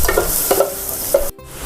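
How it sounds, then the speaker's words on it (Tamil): Finely chopped garlic and ginger sauté in butter for sweet corn soup, sizzling close by while a utensil stirs and scrapes the pan in a few quick strokes. "இது ரெண்டுமே நல்ல பொடியாக நறுக்குனது நல்லா இந்த பட்டரோடு சேர்த்து சாட்டே பண்ணிக்கணும்"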